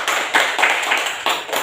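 Classroom students clap in unison, a short series of loud, close, rhythmic hand claps with no voices over them.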